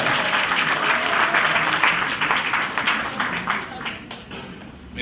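A crowd of guests applauds the bride during a civil wedding ceremony at a town hall, dense sustained clapping that gradually fades toward the end.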